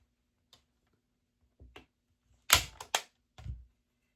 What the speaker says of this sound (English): And this is a staple gun.